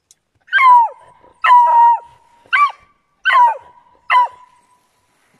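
A beagle bays in deep snow on a steep slope, five loud yelping barks with a falling pitch, spaced about a second apart, with no talk.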